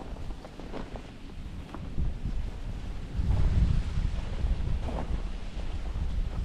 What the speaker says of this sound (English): it's breezy, very cold